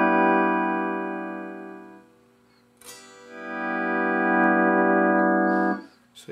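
An 8-string lap steel guitar with CTS 250 linear pots, played straight into a small Roland amp without reverb, rings out in long sustained harmonic notes, with a brief pause and a slide into a second held chord, close and clean.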